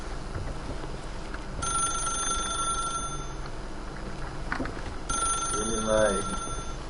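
A telephone rings in the video game The Stanley Parable, two bursts of bright electronic ringing separated by a pause, set against a steady background hum.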